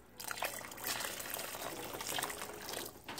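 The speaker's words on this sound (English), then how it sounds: "I'm gonna go ahead and put a little bit more water in that." Water pours into thick 2:1 sugar syrup in a kitchen, a soft continuous trickle and splash that runs steadily for about three seconds at low volume.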